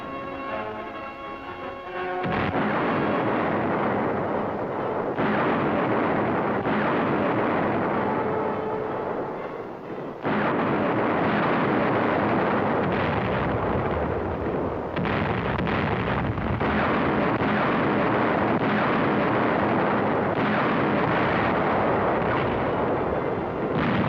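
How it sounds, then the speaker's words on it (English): Heavy wartime artillery bombardment of the approaches to Naha, Okinawa, a loud, continuous roar of blasts and rumbling detonations lasting throughout, with a short quieter gap partway through and no voices. "What was soon to develop into a drawn-out siege opens with intense bombardment of the approaches"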